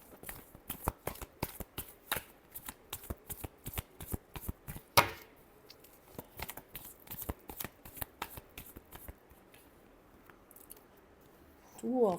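Tarot cards are shuffled by hand in a rapid series of crisp riffling snaps, close and distinct, in a steady rhythm that pauses briefly midway, ending with a short burst of sound.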